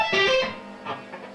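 Fast guitar tapping lick, the opening beat of a song, bright legato notes ringing close and clear for about half a second, then softer decaying tapped notes trailing off alone.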